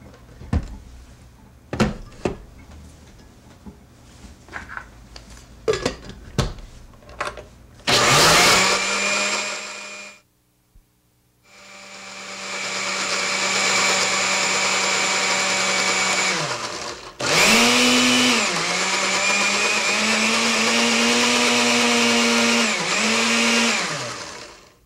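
Scattered clicks and knocks give way to a loud blender pureeing ginger and tomato into a smooth soup paste with a little water. It runs in two long stretches split by a short silence, its whirring pitch dipping as the blades bite, close by with no speech.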